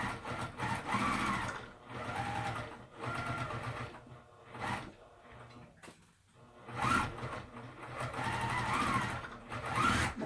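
A sewing machine stitches through thick layered fabric for an oven mitt. Its motor chatters rapidly in close, loud bursts separated by short pauses.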